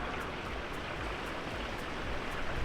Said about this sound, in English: There's a little brook back here.